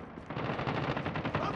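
Machine-gun fire in a multiplayer video game match as the player is hit, a quick burst of rapid, evenly spaced shots rattling for over a second, moderately quiet in the mix.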